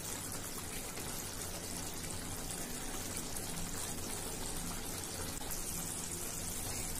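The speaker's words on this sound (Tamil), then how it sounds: "தேங்காய் பால் ஊத்துனா ரால் தொக்கு ரெடி ஆயிடுச்சு" Coconut milk poured into prawn thokku simmering in a clay pot, a steady soft splashing and bubbling pour that continues evenly throughout, fairly quiet with no talk.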